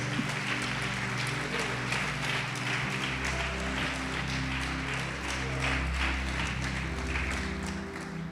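A church congregation claps in praise during a Brazilian sermon, a steady wash of applause mixed with sustained keyboard or organ music at a similar level.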